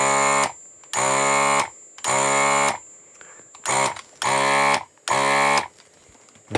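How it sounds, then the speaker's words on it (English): A ZD-915 desoldering station with a repaired pump beeps loudly in six sharp electronic pulses at a fairly even rhythm, close by and with no talking. "It still beeps loudly."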